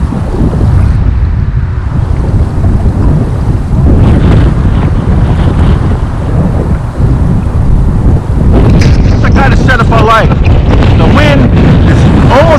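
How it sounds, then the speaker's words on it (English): Strong wind blowing across a fishing shoreline, a loud continuous buffeting rush on the microphone that grows gustier and harsher toward the end. "the wind is roughly at my back"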